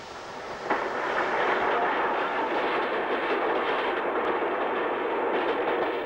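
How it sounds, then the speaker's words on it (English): A Glasgow/Edinburgh to King's Cross express passing a Darlington engine shed, a sudden rise into a sustained loud rushing rumble of wheels and carriages, steady and close for several seconds. "as a Glasgow Edinburgh to King's Cross runs by"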